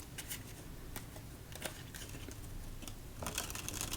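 Playing cards shuffled at a table between solitaire games, a soft papery patter broken by a few sharp riffling bursts, close and quiet with no talk.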